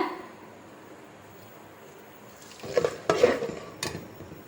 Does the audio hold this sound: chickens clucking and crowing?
no